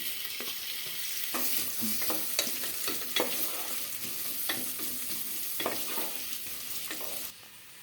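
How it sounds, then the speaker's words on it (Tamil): Steady sizzling of onions and green chillies frying in ghee in a pan, with repeated scraping stirs and clinks of a utensil throughout, fairly quiet and close. "ஒரு 2 பெரிய வெங்காயம் போட்டுருக்கேன், 2 பச்சை மிளகாய். நல்லா வதங்கட்டும்."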